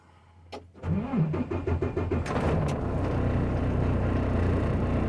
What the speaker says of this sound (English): you're going to push your clutch in and you're going to start your truck up